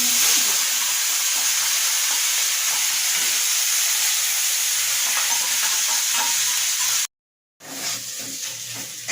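Ground spice paste sizzles and fries steadily in hot oil with cumin for a goat meat curry, a dense, even hiss broken by a brief silent gap near the end before the frying resumes.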